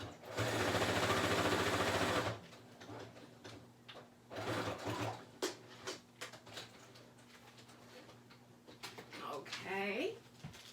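A sewing machine runs in a fast continuous whir for about two seconds, then stops; quieter clicks, handling sounds and a brief bird-like chirp follow.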